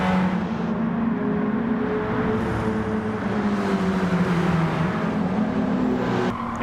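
A Renault Clio hatchback engine drones steadily in Gran Turismo 7, pushed hard through a corner with understeer, a continuous close-up hum that shifts slightly in pitch and never lets up.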